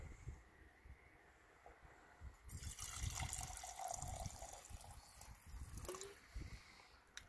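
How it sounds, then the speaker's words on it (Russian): Blue headlight polishing liquid is poured by hand into a cup, a soft close trickle that swells for a few seconds in the middle of the clip before tapering off, with faint handling noise around it. "То есть сейчас примерно на глаз будем наливать."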